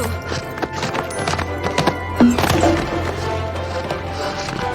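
A cartoon horse gallops toward a show jump with steady, close clip-clopping hoofbeats and a brief neigh at the jump, set against a music bed on a Playmobil horse farm.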